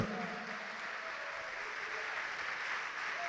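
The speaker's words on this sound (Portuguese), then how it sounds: "Vamos aplaudir a Deus por isso" A congregation applauds during a Portuguese-language church sermon, a soft, even wash of clapping heard from some distance, steady throughout.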